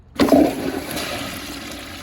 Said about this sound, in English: Let's give this thing a flush.